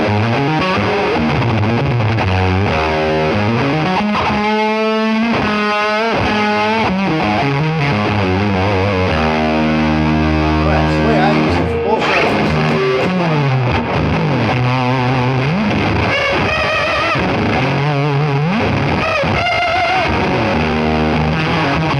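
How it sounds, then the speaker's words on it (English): Electric guitar played through a Dunlop Band of Gypsys fuzz pedal, heavily distorted with sustained chords, bends and lead lines running loud and continuous for the whole stretch, no talking. "was just the straight Band of Gypsys fuzz. That's my go-to fuzz right now."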